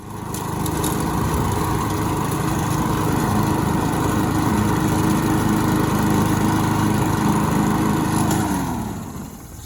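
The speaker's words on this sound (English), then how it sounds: "I'm gonna mow the grass with it real quick, make sure, and check it out." A Honda GCV160 lawn mower engine, recently fitted with a cleaned and replaced carburetor, runs steadily and loudly for most of the stretch while mowing grass, then fades as it winds down near the end.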